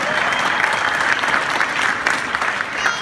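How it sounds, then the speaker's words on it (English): A crowd at a Louisville football signing day party claps loudly and steadily, a close, continuous wash of applause with no break. "you can clap, I like that"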